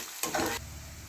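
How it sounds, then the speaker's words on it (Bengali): Ground spices and chili powder hit a hot pan for a Bengali spring onion curry, giving a sudden brief sizzle and stirring scrape that settles into a soft, steady fry. "1 চামচি লঙ্কা গুঁড়ো দিয়ে দিলাম। ভালো করে কষে নেব।"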